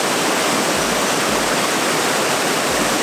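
Lip Falls in Queensland pours in a steady, loud broadband roar of falling water, continuous and unbroken throughout with no voices.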